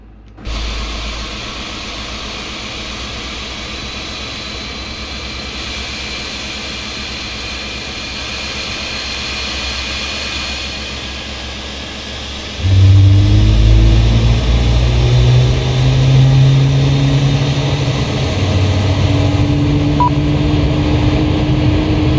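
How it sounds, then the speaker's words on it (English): Aircraft jet engine starting up on the ground before pushback at Inverness, a steady whine and hum that suddenly swells into a louder low rumble as the engine turns over, heard from the cockpit. "Should now have an engine turning over there."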